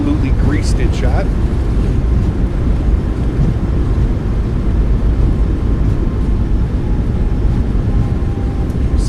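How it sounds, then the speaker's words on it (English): In a flight simulator, an iFly MAX8 airliner lands at Nuuk and decelerates with thrust reversers deployed, producing a steady, loud broadband roar with brief chirps early on. "Nose down gently, reversers are out, decelerating."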